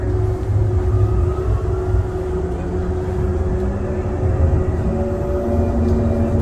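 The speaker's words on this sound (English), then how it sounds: "Our train's quite occupied for this time of night." A Calgary Transit CTrain light rail train running with passengers aboard, heard from inside as a steady low rumble with a faint tonal motor whine and no talking.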